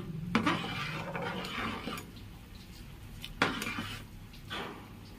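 Khichuri being stirred in a cooking pot, a spoon scraping and knocking against the metal in a few distinct clinks and scrapes over steady low kitchen noise, fairly close.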